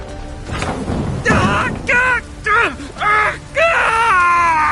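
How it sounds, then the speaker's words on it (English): Screams in The Witcher 3 video game: a rough, noisy cry followed by four loud, wavering wails in a row with short gaps, close and strained, with no talk between them. "My ears wither from the screams."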